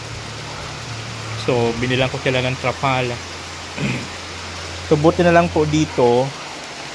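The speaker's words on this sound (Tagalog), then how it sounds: "lakas po ng ulan." Heavy rain pours steadily onto a construction site where tarps cover fresh wall plastering, a constant dense hiss throughout, with someone talking over it in two stretches.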